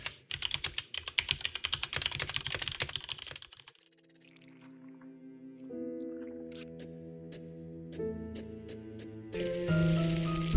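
Rapid, crisp keystrokes clatter on a computer keyboard in a scene from the game Empires of the Undergrowth, then stop and give way to soft, sustained musical tones that swell toward the end.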